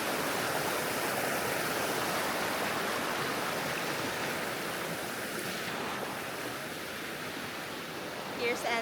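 A flowing river at Pagudpud rushes in a steady, broadband wash of water, close and continuous, with a faint hiss of wind and no clear voices over it.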